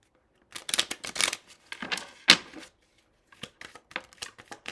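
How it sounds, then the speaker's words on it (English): Tarot cards being shuffled by hand in quick bursts of papery riffling and slapping, close and fairly loud, with short pauses between rounds and no talking. "All right, so let's shuffle really quickly."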